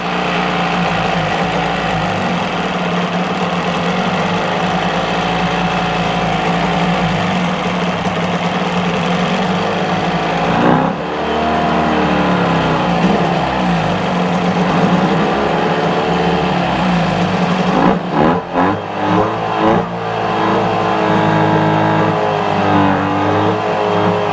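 A 1977 Johnson 9.9hp Seahorse outboard motor running steadily, loud and close, its pitch rising and falling as the throttle changes, with a brief stumble near the end.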